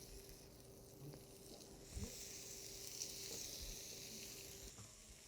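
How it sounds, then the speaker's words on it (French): Food sizzling on a hot griddle plate over medium heat, a steady soft crackling hiss that runs through the whole stretch, with a couple of faint clinks and no talking. "je vais faire ça griller sur ma plaque"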